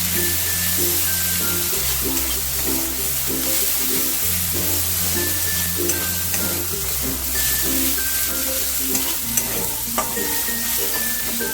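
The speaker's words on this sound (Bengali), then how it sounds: "একটু নাড়াচাড়া করবো যতক্ষণ না কাঁচা গরমটা চলে যাচ্ছে পর্যন্ত একটু ভালো করে কষিয়ে নেব" A yogurt prawn curry mixture with green chilli paste fries in a pan as it is stirred, a continuous loud sizzle with scraping strokes and occasional tapping, under faint steady background tones.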